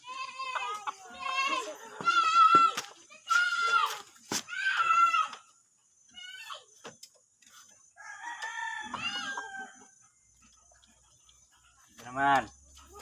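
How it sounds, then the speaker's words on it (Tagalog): Red jungle fowl crowing and clucking close by in a series of shrill, broken calls with pauses between them, ending with one sharp cry. "Manok na pula."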